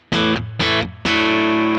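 Fender Telecaster played through a Digitech Bad Monkey overdrive pedal into an amp with light reverb: three loud, sustained overdriven chords, each struck and ringing for about half a second with brief gaps, the last held longer.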